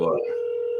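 Telephone call being placed, with a brief burst of talk-like sound at the start giving way to a steady sustained tone, like a dial or ringback tone, heard close and moderately loud.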